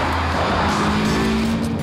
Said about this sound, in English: There's a lovely bit in this engine as you get into the higher reaches of the rev range.